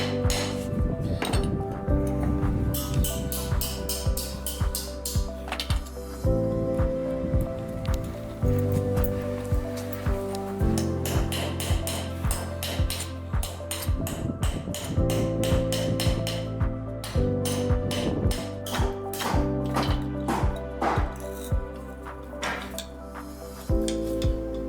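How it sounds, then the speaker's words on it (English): A hammer strikes a chisel in repeated sharp metallic taps and clinks, irregularly spaced and fairly close, over steady background music. "now I have a chisel"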